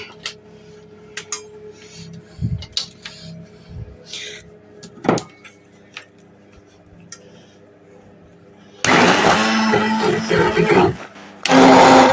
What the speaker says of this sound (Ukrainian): тепер все оце ретельно перебиваємо блендером